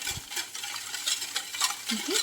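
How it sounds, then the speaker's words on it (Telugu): Jaggery cake batter of wheat flour, oil and milk being stirred in a bowl, soft wet scraping and sloshing strokes repeating steadily, quiet and close with no talk. "ఇవన్నీ కూడా బాగా మిక్స్ చేయాలి"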